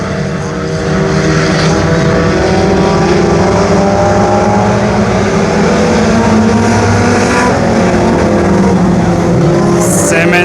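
Race cars roaring around the Brownstown Speedway dirt track during a Fan Appreciation Night restart, a loud, dense, continuous engine drone that swells slightly as the pack passes, with a faint voice beneath.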